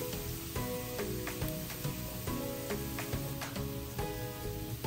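Eight cloves of minced garlic sizzle steadily in a hot pan, a continuous close crackling hiss broken by occasional louder spatters, with no talking.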